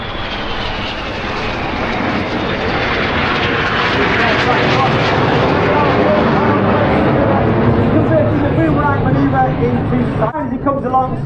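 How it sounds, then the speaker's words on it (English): Aerobatic jets at the Eastbourne Airshow pass each other during a Boomerang crossing manoeuvre: a loud, sustained engine roar that swells and holds for about ten seconds, with a faint falling whine early on, before cutting off abruptly near the end. "Each aircraft rolls the correct way up to pass in the middle to complete the manoeuvre called Boomerang."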